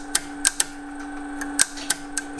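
A Strowger switch in a UAX13 telephone exchange steps through its positions, giving sharp, irregular mechanical clicks and clacks over a steady electrical hum, close and moderately loud, with no talk.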